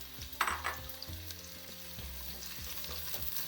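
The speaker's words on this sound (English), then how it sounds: "put a little bit of onion in there, and you can see it starts to sizzle" Steady crackling sizzle of onions frying in hot ghee, with occasional soft stirring scrapes and pops.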